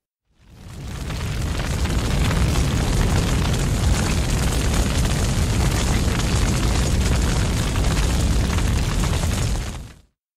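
A great fire roars as a dense, loud, continuous rush of noise that swells in quickly, holds steady for about ten seconds and then cuts off, with no voices over it.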